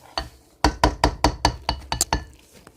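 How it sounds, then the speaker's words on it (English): A molasses, brown sugar and cinnamon mixture is stirred in a bowl, with a quick series of about ten sharp, close knocks of the utensil against the bowl in a steady rhythm. "we're going to stir this really good. This is our mixture."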